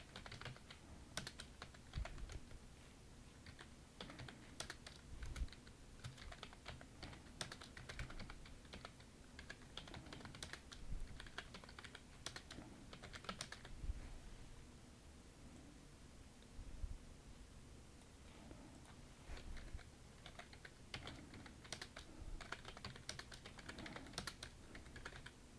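Computer keyboard typing while a Hangul word-processor exam document is written, a long run of quick irregular keystrokes with short pauses, close and fairly quiet, no speech.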